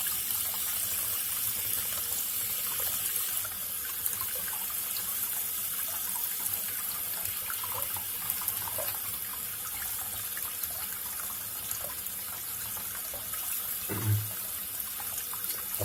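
Tap water streams continuously through a small instant water heater into a sink, a steady hiss and splash holding at even loudness, with a brief low knock near the end and no voices.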